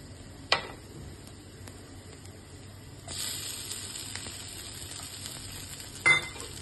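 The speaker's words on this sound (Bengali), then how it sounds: "আমার রসুনটা একটু ভাজা ভাজা হয়ে এসেছে, এবার আমি আলুটা অ্যাড করছি।" Cubed potatoes dropped into frying garlic for aloo chop, a soft sizzle that swells midway as they hit the oil, with stirring and a couple of sharp clinks of a spoon on the pan.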